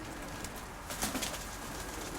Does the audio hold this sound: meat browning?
no